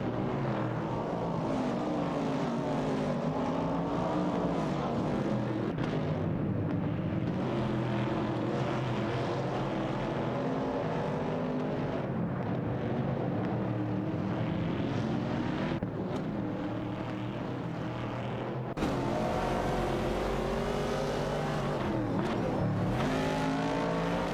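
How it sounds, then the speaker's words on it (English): Several race cars, among them a 1969 Chevrolet Camaro and a Ford Falcon, battle for position in a racing video game, their engines droning loud and continuous with shifting pitch throughout, no talk over them. "The battle for 8th place is heating up between Simflamarcas and Sierra-Ironbolt in a Chevrolet Camaro 69 and Bobado and N29K in a Ford Falcon"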